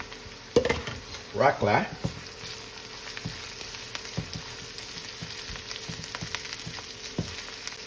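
Onions hit a hot pan for chicken fried rice and sizzle steadily, with a few loud utensil clanks and stirring scrapes early on, and a brief spoken word over the frying.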